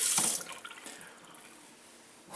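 Cold or room-temperature water pours into the top chamber of a Big Berkey water filtration system, a steady splashing rush that is loudest at first and then settles into a quieter continuous trickle, with no voices.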